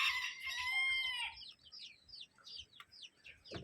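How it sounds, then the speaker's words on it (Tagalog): A rooster crows loudly and close in a backyard pen with chickens and ducks, followed by a run of quick, rhythmic clucking from the fowl. "Tingnan natin yung manok ni Boss Joey dito."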